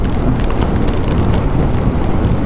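Loud, dense rain noise with a low rumbling wash throughout, constant and close, no voices, on the road between Sigandur and Jog Falls in Karnataka.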